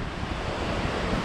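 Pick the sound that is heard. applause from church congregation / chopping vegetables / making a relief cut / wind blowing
wind blowing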